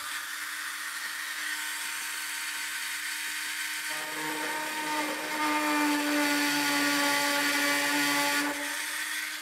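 A small 1 mm bit drilling into plywood makes a steady high-pitched tool whine throughout, and the pitch and load shift midway as the bit bites into the wood.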